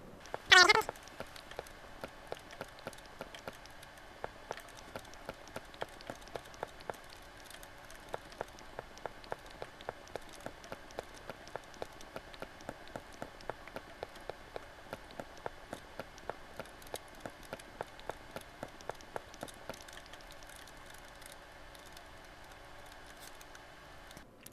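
Video-game rain in Breaking Blox falls as a faint, steady patter with regular soft ticking drops running throughout, after a brief sharp burst at the start and with no talking.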